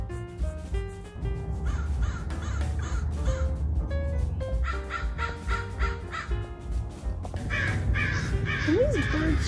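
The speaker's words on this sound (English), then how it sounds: "Can these birds shut up?" Loud crows caw repeatedly close by outdoors, harsh calls coming in irregular bursts over a steady background hum, with a voice briefly audible among them.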